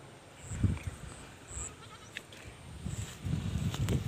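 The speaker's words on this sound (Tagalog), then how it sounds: "Yan yung mga kambing natin." Goats on a farm give a few short, faint bleats in a quiet setting with low rustling and shuffling movement nearby.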